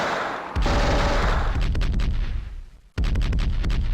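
Auto cannon and gunfire in a WW2 strategy battle game crack out in dense, loud bursts, with one short lull before another volley starts.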